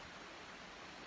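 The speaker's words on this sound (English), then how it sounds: "I don't know if you can hear my creek behind me." A year-round creek flowing behind a pasture, giving a steady faint broadband rush of water with no breaks across a short moment and no voices.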